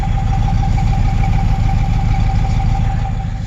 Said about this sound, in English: You can hear that exhaust.